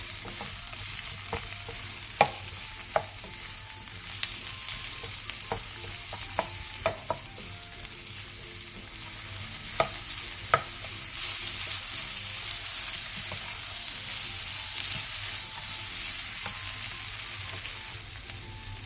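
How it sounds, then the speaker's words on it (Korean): Onion and minced garlic stir-frying in oil in a pan over medium-low heat, a steady close sizzle broken by brief clinks of a utensil stirring, with no talking. "팬에 기름을 두르고 양파와 다진 마늘 1스푼을 넣고 양파가 투명해질 때까지 중약불에서 볶아주세요"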